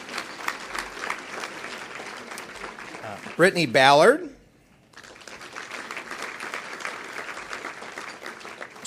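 An audience at the 2011 ATHENA Awards claps for honorees as names are read out, steady applause broken by a voice announcing a name over it, a short pause, then clapping resumes.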